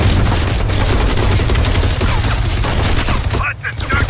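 Heavy machine gun fire in the shooter game Call of Duty Black Ops Cold War, a loud, continuous rapid rattle mixed with booming battle noise.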